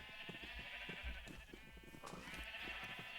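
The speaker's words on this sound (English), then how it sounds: "Down here, we've got the sheep pen." Sheep in a pen in a castle-building video game bleat several times at close range over a low ambient background.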